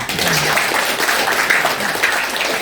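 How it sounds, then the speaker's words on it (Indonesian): Audience applause at a First Communion celebration in a church station, a steady dense wash of clapping from a crowd that holds evenly through the clip. "tepuk tangan untuk mereka dulu ya"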